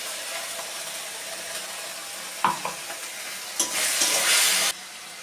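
Ground tomato paste frying in oil with ginger-cumin paste for a tilapia fish curry, a constant sizzle broken by spoon knocks and clatter, then a louder hissing surge near the end before it drops back.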